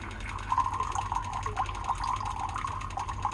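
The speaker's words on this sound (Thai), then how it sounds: "อันนี้น้ำกรองที่ติดที่คอนโด" A five-stage RO water filter tap fitted in a condo runs in a steady, moderately loud stream, a continuous splashing hiss with no voices over it.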